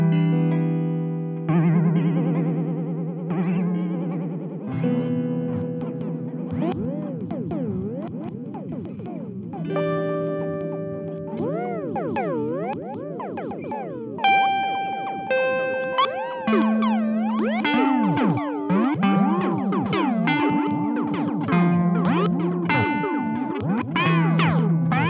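Guitar played through a Chase Bliss MOOD pedal, its first switch modulating the time knob, giving warbling pitch-swooping echoes and looping sustained notes that bend and wobble, steady and moderately loud, with no talking.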